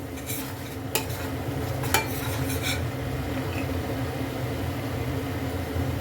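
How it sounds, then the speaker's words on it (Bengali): Chhanar kalia masala sizzles in oil in a pan while a spoon scrapes and stirs it, with a steady close frying hiss and a few sharp clinks of utensil against metal near the start. "কষে নিয়েছি তেলও ছেড়ে এসছে আরও খানিক্ষণ কষবো"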